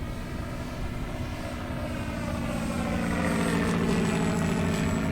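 An electronic sound module on an RC Cessna 182 model plane gives off a steady, droning propeller-engine hum, loud and continuous, swelling slightly toward the end.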